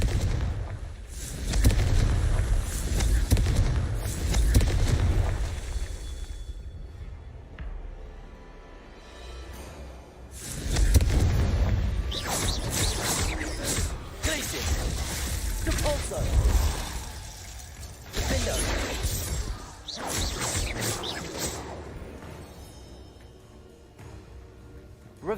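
Repeated booming Confringo blasting spell explosions in Hogwarts Legacy, loud bursts in several clusters with crackling debris, mixed with game sounds and a voice speaking.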